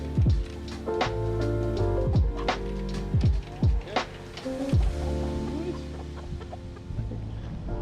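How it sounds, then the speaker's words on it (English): Hens and roosters cluck and squawk in a backyard flock as new hens are combined into it, with repeated close calls over a busy farmyard background. "we've got the last two to go in that we think are hens"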